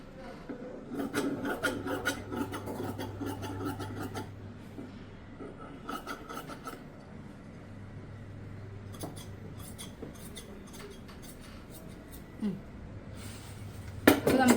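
Scissors cut through blouse fabric in a series of rough, rasping snips that come in bursts with short pauses, close and fairly quiet.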